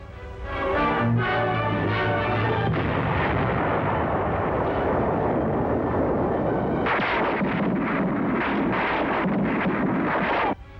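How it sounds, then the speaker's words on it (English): A heavy dynamite charge explodes against a dug-in enemy position on Okinawa during the Second World War, giving a loud, sustained roaring blast that fills the whole stretch, with a tonal sound underneath at the start. "Cautiously advancing on the firmly dug-in enemy, Yanks plant a heavy charge of dynamite."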